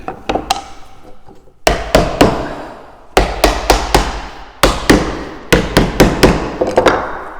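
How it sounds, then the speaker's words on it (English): Sharp hammer blows on wood, tapping a table rail into place, struck in quick bursts of three or four, loud and close with short pauses between groups. "I'm going to tap it down with a hammer."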